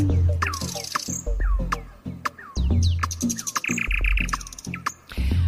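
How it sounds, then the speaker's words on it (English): A nightingale sings in the dark, pouring out varied rapid phrases of whistles, trills and sharp chirps, clear and fairly close, with short pauses between bursts. "just like this nightingale, the bird that sings out in the dark"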